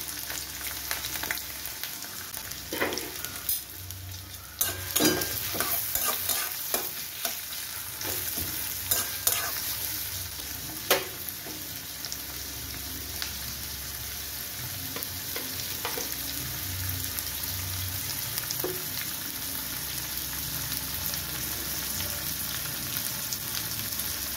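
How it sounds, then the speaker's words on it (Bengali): Onions frying in mustard oil for a fish korma, stirred in the pan: a steady close sizzle runs throughout with repeated scraping and clinking strokes of the spoon, no talk. "আগে আমি তেলে পেঁয়াজগুলো দিয়ে একটু বেরেস্তা বানিয়ে নেব"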